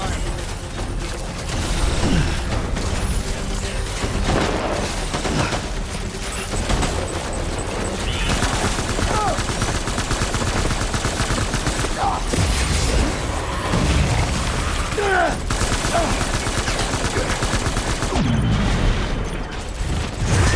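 Gunfire and heavy booms during combat in the video game Death Stranding, dense and continuous over a loud mechanical rumble, with sharp shots and blasts layered throughout.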